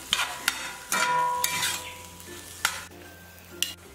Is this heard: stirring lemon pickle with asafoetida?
yes